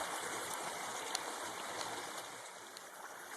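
A creek flows steadily outdoors, a continuous close rushing and trickling of water with no break and no voices.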